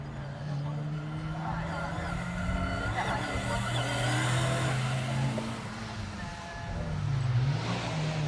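A rally car on a closed stage of the Protyre circuit rally championship runs at steady engine revs for about eight seconds, its drone swelling slightly and rising again near the end, with a commentator talking over it.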